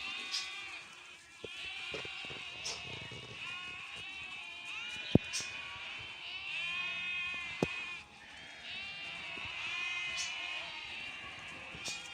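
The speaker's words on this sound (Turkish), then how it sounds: "Arkadaşlar kuzucuklar, koyunlar" Lambs and ewes bleat as the lambs follow their mothers trying to suckle, a chorus of overlapping wavering calls, some near and loud, others farther off, continuing through the whole stretch.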